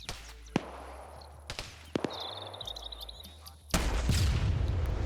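Gunfire from a PvP shooter video game, including a character spraying down an opponent: scattered sharp shots, then a louder, denser burst of firing and rumble toward the end.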